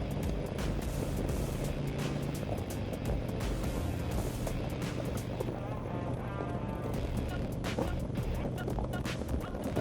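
A 2024 Harley-Davidson Road Glide Limited cruising in sixth gear, a steady low engine drone blended with heavy wind rush, loud and continuous from the rider's position.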